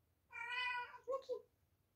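A cat lets out a drawn-out, close meow, then two short chirping mews in quick succession, fairly quiet against a faint room hum.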